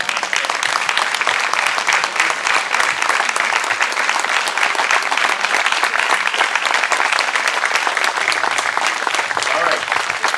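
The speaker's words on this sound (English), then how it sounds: "we would like a big round of applause for all the folks standing" An audience gives a big round of applause to first responders standing at a patriotic celebration event; dense, steady clapping fills the whole stretch at full volume without letting up.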